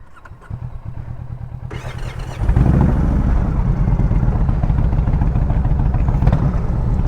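Motorcycle engine restarting after the bike tipped over: a ticking idle with cranking, then a louder catch as it fires into a steady, rough running rumble, close by.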